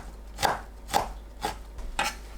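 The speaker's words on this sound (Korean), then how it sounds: "냉이 뭉친 곳을 풀어줍니다. 작게 썰어주세요." A knife chops blanched shepherd's purse (naengi) into small pieces on a board, four evenly spaced, crisp thuds about half a second apart, close and clear with no talking.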